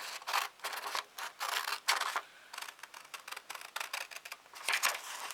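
Scissors snipping through paper in a quiet room during a craft demonstration, a rapid series of close, crisp cuts in short bursts with brief pauses between them.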